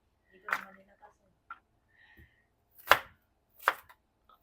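Knife strikes cutting through onion on a board, a handful of sharp, irregular chops spaced apart, close and fairly quiet, with faint background sounds between cuts.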